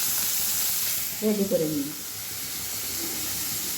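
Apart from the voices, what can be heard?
puti fish frying in a pan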